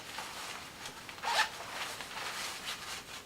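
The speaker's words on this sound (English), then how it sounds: "They're zippered, but it's not a waterproof zipper." A zipper on a motorcycle jacket pocket is pulled close up, one quick rasping zip with light fabric rustle around it and no talking.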